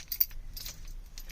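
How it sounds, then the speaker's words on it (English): Car keys jangling at a 1950s–70s Morris Minor 1000 while searching for the ignition key: a few quick, faint metallic clinks in short bursts, close by. "if I can find the right key."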